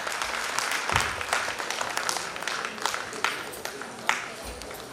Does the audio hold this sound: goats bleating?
no